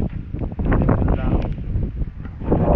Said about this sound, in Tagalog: Anong malakas ang hangin.